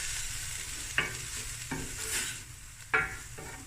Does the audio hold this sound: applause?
no